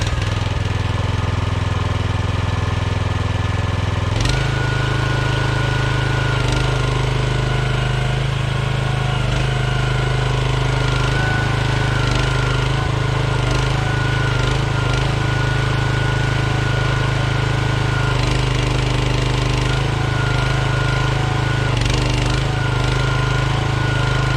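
A mini excavator just after modifications cranks up and runs continuously, its loud, steady, throbbing diesel note holding close and constant throughout with no talking.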